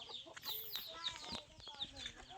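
Chickens cluck at a farmhouse in a repeated, close, moderately loud series of short calls, with a voice briefly audible in the background.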